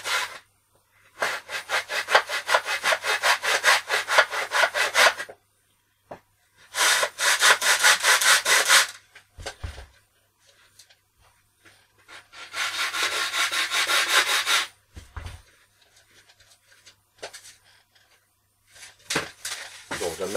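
A carbon-fibre F3K glider wing has its control surface cut free, heard as three long bursts of close, rasping back-and-forth sawing separated by pauses, with a few short scrapes near the end.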